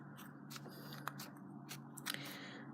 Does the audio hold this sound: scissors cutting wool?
yes